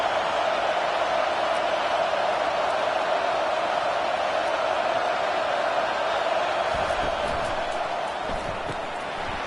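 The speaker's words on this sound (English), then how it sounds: "Listen to the crowd energy here in the early going." A college football stadium crowd at Ole Miss at Georgia roars in a dense, continuous wash of noise early in the game, with a broadcast commentator talking over it.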